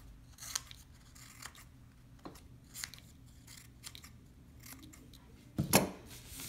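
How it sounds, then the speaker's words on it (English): Scissors snip through two folded sheets of paper at once, a series of quiet, close, crisp cuts spaced irregularly, ending with one louder, sharper snip near the end, no one speaking. "now I'm cutting two papers at once"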